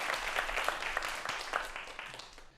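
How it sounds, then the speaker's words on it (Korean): An audience claps at a televised talk on the future of robots, a burst of distinct hand claps that gradually thins and fades toward the end. "다시 한번 박수 부탁드리겠습니다"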